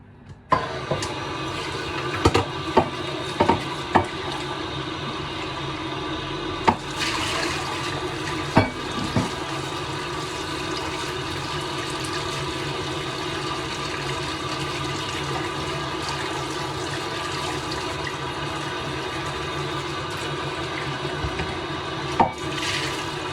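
Water runs steadily from a tap while a half-liter container is washed beneath it, a loud continuous rush broken by occasional knocks and clunks of the container, with no voices.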